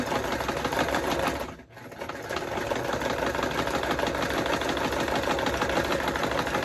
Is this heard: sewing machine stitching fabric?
yes